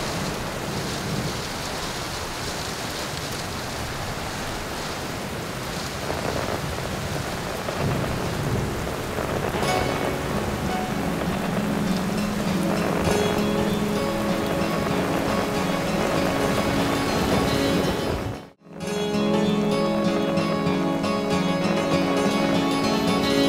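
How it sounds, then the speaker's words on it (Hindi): Heavy rain pours steadily with rolling thunder rumbling through the downpour, a loud continuous wash of water on surfaces that briefly drops out before resuming. "इस बारिश ने मौसम को बदल के रख दिया है।"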